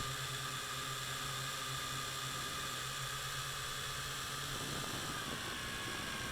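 An MJX X101 quadcopter drone hovers at about half throttle, its steady high-pitched rotor whine and buzzing hum continuous throughout, with a slight shift in pitch near the end.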